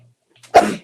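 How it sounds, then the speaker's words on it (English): A single sharp sneeze bursts out after a brief quiet pause, close and loud, then trails off quickly in a quiet indoor setting. "I feel like I have to sneeze."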